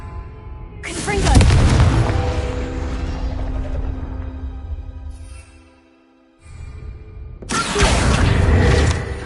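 A Confringo spell blast in Hogwarts Legacy, two loud explosive bursts with a booming low rumble, the first decaying over several seconds before a brief silence and a second burst.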